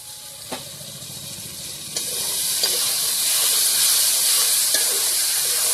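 Potatoes fry in hot oil with a steady, close sizzle that swells louder after a stir, with occasional soft clinks of a utensil and no talking.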